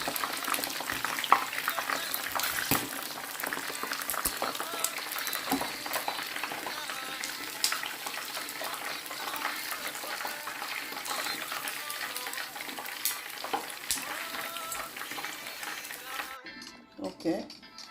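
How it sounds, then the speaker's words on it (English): Turkey wings frying in hot oil give a steady, dense sizzle and bubbling crackle that runs loud and continuous, then drops off sharply near the end as the second batch is lifted out. "I'll be removing the second fry now."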